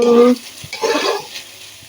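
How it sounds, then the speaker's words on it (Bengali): Vegetables for noodles fry in a pan as they are stirred, making a short burst of close sizzle and scraping with a brief voice at the start. "তো দেখো, সবজিটা আমার ভাজা হয়ে গেছে।"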